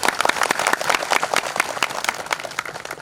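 An audience bursts into loud, sustained applause at a live public address on International World Tribal Day, with dense overlapping claps running unbroken for about three seconds.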